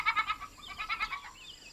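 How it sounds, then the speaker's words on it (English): A bat-eared fox calling in the African bush, a series of short, high, quavering yelps in quick bursts, fairly faint against a quiet background. "That sounds like a bat-eared fox."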